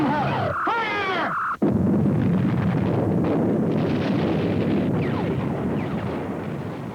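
Artillery guns firing on invading Martian war machines in a film battle: after a brief shouted voice, a sharp blast cuts in, then a sustained, loud rumbling roar of explosions and wind-like noise carries to the end.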